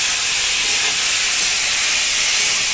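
Four chopped medium tomatoes hit a hot pan for chicken chowmein, giving a loud, continuous sizzle and hiss that holds steady throughout.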